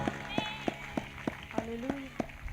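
Audience at a church gathering clapping in praise, a rhythmic series of sharp claps roughly every third of a second, close and fairly loud, with voices and music faintly underneath.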